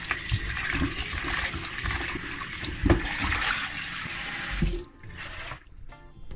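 Tap water splashes and runs over raw chicken wings in a sink while they are rinsed, a close, steady gush that cuts off near the end, followed by a few drips and handling noises.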